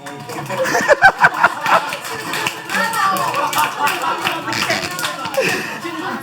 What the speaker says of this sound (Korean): 물개 박수 치는데